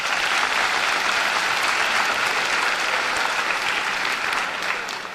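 An audience at a 2017 Cumberland County High School graduation gives a round of applause for a state champion student, a broad, steady wash of clapping that fades a little at the end.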